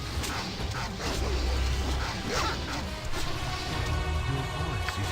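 Dogs barking and yipping in the Baldur's Gate video game, a busy run of sharp barks over a dense background of game sounds and combat noise, with no talk.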